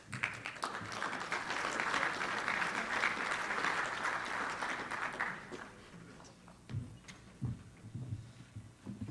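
Audience applause for award winners at a military keynote panel, a sustained wash of clapping for about five seconds that fades out, followed by a few scattered noises and a voice.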